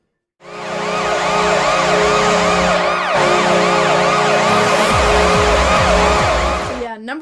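A loud Washington Capitals NHL goal horn blares together with a wailing siren, both sustained for about six seconds before cutting off.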